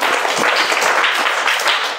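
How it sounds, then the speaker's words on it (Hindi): Children in a classroom clap together in a brief, dense burst of applause that stays loud and steady throughout. "अरे वाह, ताली बजाओ भाई।"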